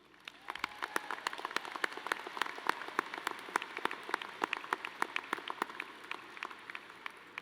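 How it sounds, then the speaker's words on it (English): Audience applause at an engineering and computer science graduation ceremony, a steady patter of many individual claps, fairly distant and moderately quiet, sustained throughout with no talking. "Let's give them a big round of applause."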